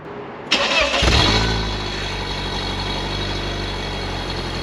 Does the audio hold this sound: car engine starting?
yes